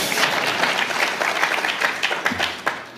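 Dense, steady audience applause fills a hall at an evening event at the Lyndon Baines Johnson Library and Museum, loud and continuous throughout with a few sharper individual claps near the end.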